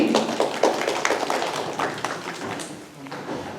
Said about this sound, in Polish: Duże brawa dla Majeczki